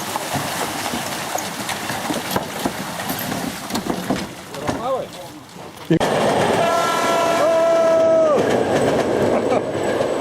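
Passing train sounds a long, loud horn blast near the tracks at a joint horse-club and Subaru Forester club gathering, following rumbling and clatter, with people talking around it.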